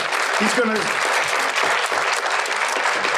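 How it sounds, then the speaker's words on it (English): An audience at the MVCC Annual Congressional Breakfast Forum 2025 applauds, a dense, even burst of clapping lasting about three seconds, with a brief voice near the start. "How about a round of applause for Cal?"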